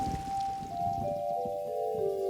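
Rain falls over a countryside scene in a Curious George cartoon, a soft, steady patter accompanied by a sustained, gliding musical tone.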